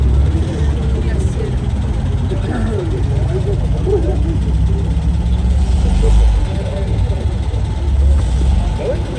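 A vintage car engine at a rally event rumbles steadily up close, a low continuous drone with no break, with people chattering over it.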